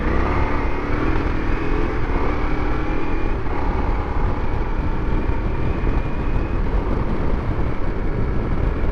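Ducati Multistrada V4 ridden in Enduro mode on a smooth, washboarded gravel road: a steady, close engine roar mixed with wind and tire rumble, continuous throughout with no talk.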